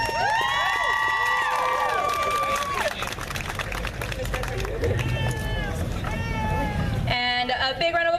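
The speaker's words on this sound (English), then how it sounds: "A fierce applause for Desiree." A crowd cheers with whoops, whistles and shrill calls for a pin-up contestant at a hot rod car and bike show, a loud, dense mix of excited voices that holds steady and then tails into a few higher sustained tones near the end.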